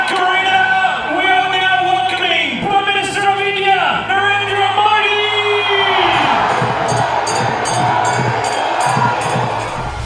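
In an Australian stadium, a crowd of about 20,000 chants the name of Indian Prime Minister Narendra Modi, loud and rhythmic at first, then breaking into a broad roar of cheering.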